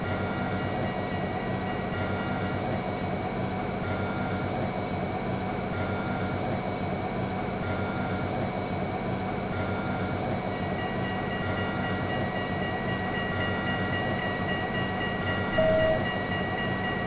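An N5 night tram runs steadily on its rails, giving an even, continuous rumble with a constant hum throughout and no talk.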